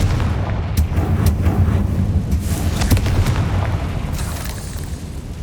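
A Confringo fire spell explodes in the Hogwarts Legacy video game, with a dense, rumbling boom and crackling bursts that roll on loudly for the whole stretch.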